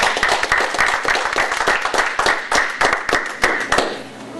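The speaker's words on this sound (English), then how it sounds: "give him a round of applause, David Oswald." Real estate seminar audience giving a round of applause to welcome a speaker, distinct individual claps close by that thin out and fade toward the end.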